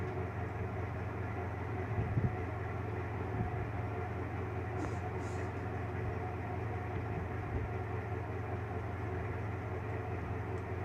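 A steady low rumble of a train rolling past continues throughout, with faint rattling and no voices.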